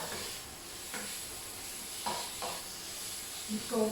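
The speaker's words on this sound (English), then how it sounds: "Keep moving that around the pan." Mushroom stroganoff ingredients stirred around a hot pan, a steady close sizzle with soft scraping strokes recurring every second or so.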